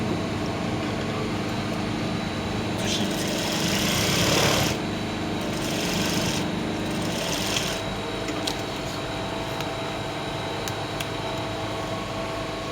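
A sewing machine runs steadily while stitching a cargo skirt, a continuous mechanical whir with brief louder stretches of faster stitching, close and alone.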